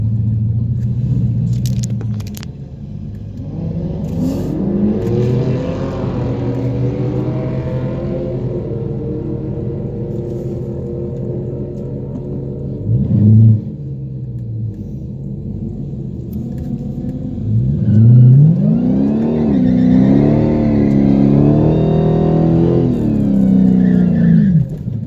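A tuned Hellcat roars through a close quarter-mile race heard from inside the car, the engine droning loud and low with rising pitch through the gears, a brief shift break midway and a final hard pull.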